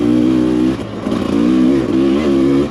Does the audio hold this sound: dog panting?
no